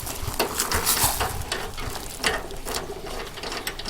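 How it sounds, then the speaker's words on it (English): A gas input fitting is screwed onto a Camp Chef Triton 5L portable water heater, giving close, irregular metallic ratcheting and scraping clicks with no speech. "So let's go ahead and put the gas input on."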